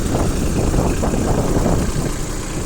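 A Yanmar Ke-60 mini tractor with a front loader idles steadily close by, a constant low chugging rumble with no other sounds.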